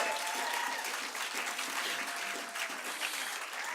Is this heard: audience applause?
yes